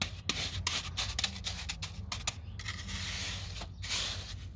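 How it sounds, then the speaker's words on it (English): A trowel scrapes and smooths wet cement while a small brick retaining wall is built, giving a close, repeated rubbing and rasping with short gaps between strokes. "Good thing is we can flatten it out with the trowel."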